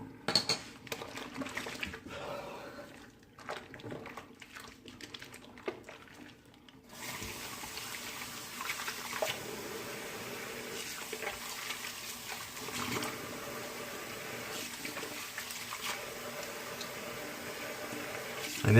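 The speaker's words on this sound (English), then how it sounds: "So you're going to hear a little bit of water running" Water runs from a tap in a steady hiss, beginning after scattered clinks and handling sounds and continuing evenly at moderate volume.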